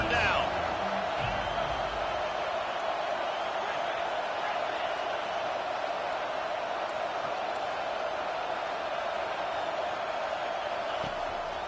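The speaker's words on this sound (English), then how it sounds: "Decibels rising as the crowd gets behind this defense on 3rd down." A stadium crowd roars at an American football game during a third-down defensive stand, a loud, sustained wall of cheering that holds steady throughout with a broadcast announcer's voice over it.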